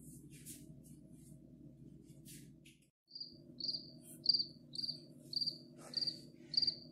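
A cricket chirps in a steady series of about seven short, bright pulses, close and clear, following a few seconds of low humming background with scattered higher noises.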